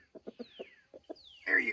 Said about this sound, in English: You're a friendly rooster.